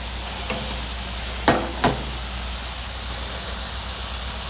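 Burgers and bacon fry on a hot griddle with a steady, broad sizzle that runs throughout, broken by two sharp scraping clatters of a spatula near the middle.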